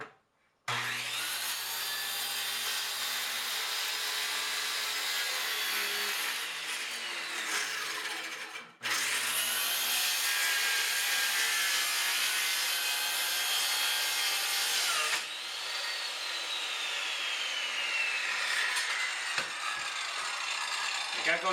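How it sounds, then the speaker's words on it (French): A circular saw rips a Russian cherry board lengthwise in a woodworking shop, a loud continuous high whine with two brief pauses where the cut stops and restarts, blade pitch drifting as it bites the wood. "simplement ma scie ronde. Je vais refendre ça en deux."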